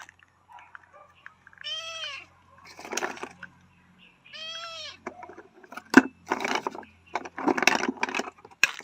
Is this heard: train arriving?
no